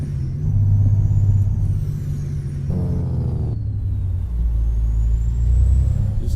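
Modified Peterbilt 389 truck with a Detroit diesel engine in American Truck Simulator, running at a low, heavy idle and then shifting pitch as it pulls away. A short burst of hiss cuts in partway through.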